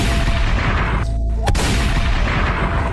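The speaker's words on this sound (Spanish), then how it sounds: "El disparo de carabina." A carbine gunshot sound effect rings out in a dense, booming, loud sequence, with a sharp crack standing out near the middle above a continuous heavy rumble.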